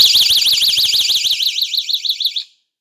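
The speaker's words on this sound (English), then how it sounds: "then that 150 decibel alarm" A 150-decibel personal safety alarm built into a flashlight stun gun shrieks loudly with a piercing, warbling electronic tone in rapid up-and-down sweeps, then cuts off abruptly into silence.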